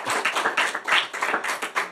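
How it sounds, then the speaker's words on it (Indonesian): Clapping from a small group on a talk show set, a loose burst of distinct, close hand claps with uneven rhythm lasting a couple of seconds. "Tepuk tangan sekali lagi."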